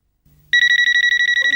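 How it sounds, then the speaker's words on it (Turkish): A telephone bursts into loud, close electronic ringing after a brief quiet start, a fast warbling trill that repeats in quick pulses. "Telefon."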